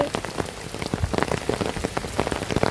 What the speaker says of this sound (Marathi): जाम पाऊस आहे.